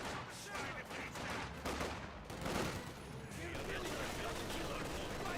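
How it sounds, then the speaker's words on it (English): An MG42 machine gun rattles in sustained bursts amid a dense Company of Heroes 2 battle mix of gunfire and explosions, with a voice talking over the din. "MG42 firing away, suppresses down the combat engineers"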